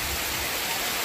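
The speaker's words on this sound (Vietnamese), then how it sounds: "trời thì mưa to" Heavy rain pouring down during a flood in the Central Highlands as evening falls, a steady dense hiss filling the whole moment without pause, no voices heard.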